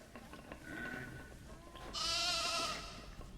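Lambs bleat nearby, one short call followed by a louder, longer bleat, over faint background noise.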